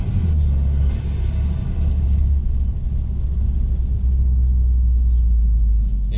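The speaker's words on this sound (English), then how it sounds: "The exhaust, you can hear the boominess now." A BMW 328i fitted with a 335i exhaust drives in sport mode, giving a steady, deep booming drone that stays loud and continuous throughout, with no voices.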